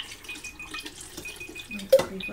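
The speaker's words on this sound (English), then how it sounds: "And then I'm going to pour my stop bath in." Stop bath liquid for developing black-and-white film pours into a tank with a close, trickling splash that swells briefly near the end.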